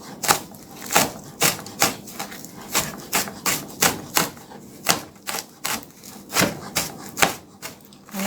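A knife chops cleaned, frozen scallion pieces on a wooden board for Jamaican ackee and saltfish, making steady, evenly spaced sharp taps, close and clear, with no talking.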